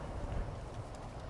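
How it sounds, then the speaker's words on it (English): Horse hooves clip-clop softly in the Ghost of Tsushima video game, a faint, brief patter of steps heard alone without speech. "Is this my horse? Or is this somebody else's horse?"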